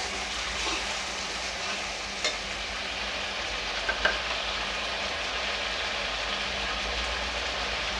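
Paste for aloo mooli sabzi sizzles and fries steadily in a pan, a continuous close hiss with a couple of faint spoon scrapes as it is stirred.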